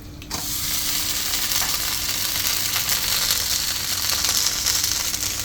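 Ghee sizzles loudly and steadily on a hot tawa griddle, a dense, even hiss that continues without break from start to finish.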